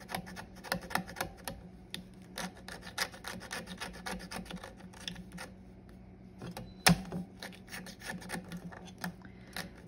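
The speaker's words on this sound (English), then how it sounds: "I'm just trying to scrape off the excess." Excess hardened UV resin is scraped off a piece of jewelry in quick, irregular rasping strokes, close and dry, with one sharper scrape partway through.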